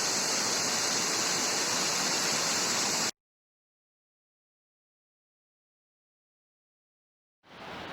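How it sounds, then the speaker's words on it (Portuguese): Water from the Santa Bárbara waterfall rushes along a stream toward a blue pool, a steady loud hiss that cuts out abruptly into silence and then swells back near the end. "Aqui nós temos um córrego da água da Cachoeira da Santa Bárbara, que está indo diretamente para o Poço Azul"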